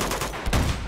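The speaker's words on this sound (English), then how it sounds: "What hell are they shooting at?" Bursts of gunfire from enemies shooting in the video game Uncharted 2, a dense, loud burst of shots that swells and dies back across under a second, with no talk.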